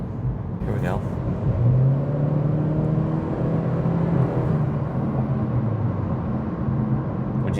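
An Acura Integra with a CVT accelerating from inside the cabin, a steady droning engine tone holding near-constant pitch under road rumble, with someone speaking briefly over it.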